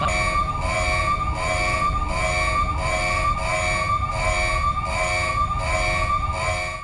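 Prison siren blaring to wake an inmate, a loud wailing tone that rises and falls in regular repeated cycles about once every three-quarters of a second, sounding alone and unbroken throughout.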